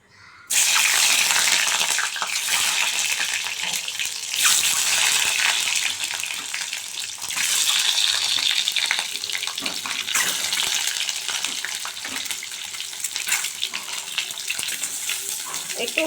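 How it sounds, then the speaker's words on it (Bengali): Halved duck eggs fry in hot oil in a wok with a loud, steady sizzle that carries on without a break, much like rushing water. "আগে আমি এই যে কেটে রাখা হাঁসের ডিমগুলো ভেজে নেব"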